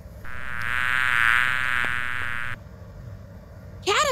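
A bee gives a steady, fairly loud buzzing drone for about two seconds, then stops; a brief high-pitched voice or chirp follows near the end.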